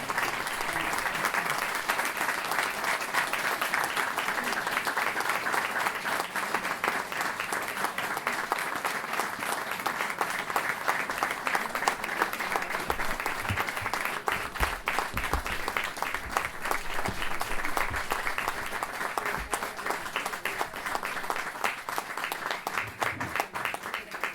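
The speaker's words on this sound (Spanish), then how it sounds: "pido un fuerte aplauso" Steady, sustained applause from a large audience at a 60th-anniversary commemoration of the assault on the Mieres police station, dense and continuous throughout with no talking over it.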